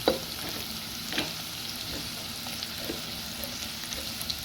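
Onion and garlic sautéing in oil for bopis, a steady dense sizzle with occasional scraping stirs of a utensil in the pan, close and continuous without talk.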